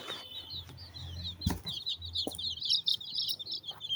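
Chickens cluck in quick repeated bursts, moderately close, with a few sharper knocks and a low hum in the background.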